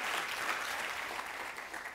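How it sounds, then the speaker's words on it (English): Audience applause fills the room, a steady dense wash of clapping at moderate level, sustained without a break and with no voices over it. "And, applause."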